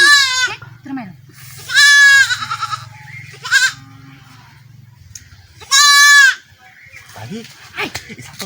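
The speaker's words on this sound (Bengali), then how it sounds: "আরে এটা তো ছাগল" A goat bleats loudly and close by several times in long, wavering calls separated by pauses, with low voices murmuring in the background.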